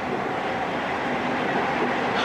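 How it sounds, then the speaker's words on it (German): An underground metro train runs beneath a city, giving a steady, loud broadband rumble and rattle that holds at a constant level throughout, with no voices. "Ah, eine U-Bahn."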